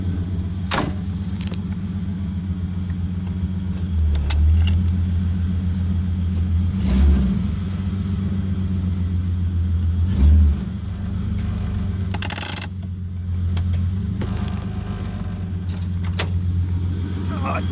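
A classic car, originally fitted with a straight six, idles steadily at close range while being backed up, with a low continuous engine drone, occasional thumps and clicks, and someone talking over it.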